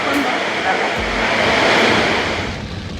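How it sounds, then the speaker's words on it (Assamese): Steady rain pouring continuously on a wet day, a dense hissing wash with a low rumble underneath, close and unbroken throughout. "আজি চাগে দিনটো বৰষুণ দিব পূৰা নেৰা নেপেৰা বৰষুণ"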